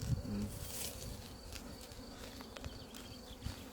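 Honeybees hum around a hive entrance as the colony is drawn into a new hive, a soft buzzing drone outdoors with a few faint clicks and distant bird notes.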